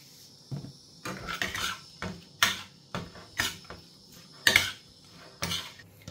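Chopped shrimp and salt are stirred in a bowl for Filipino burong hipon. A utensil scrapes and clinks against the bowl in short, irregular bursts separated by brief pauses.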